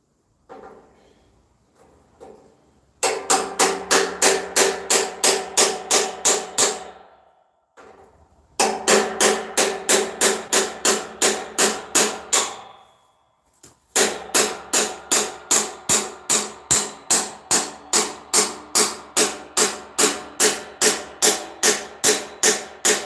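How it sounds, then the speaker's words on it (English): Small hammer striking metal in a workshop floor rebuild, loud rapid regular blows in three bursts with brief pauses between, no talking. "Where'd the little hammer go?"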